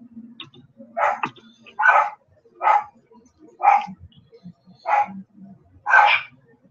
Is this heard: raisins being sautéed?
no